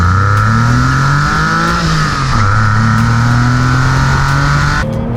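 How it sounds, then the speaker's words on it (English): A Porsche 996 engine revs hard under acceleration from about 4,000 rpm, its loud, steady engine note climbing in pitch, heard up close from inside the car with no talk. "you experience the revs building"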